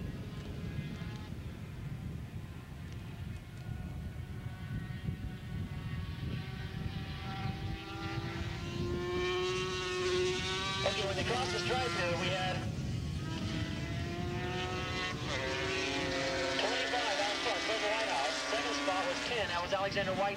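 Racing 450cc liquid-cooled motorcycles roar around a turn at Willow Springs, their engines rising and falling in a steady, fairly distant drone under continuous commentary.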